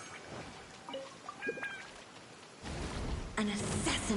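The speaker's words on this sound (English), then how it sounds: "It always rains when I go on an adventure." Rain in the video game Genshin Impact, starting as faint patter behind game tones and swelling at the end into a steady, louder hiss.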